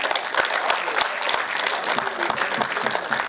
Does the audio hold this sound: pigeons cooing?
no